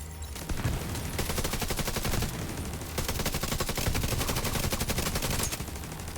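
Sustained automatic assault rifle fire in The Division 2 hammers out in rapid, dense bursts that run almost without pause, loud and close, with no voices over it.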